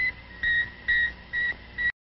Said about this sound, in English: You are hearing the actual signals transmitted by the Earth-circling satellite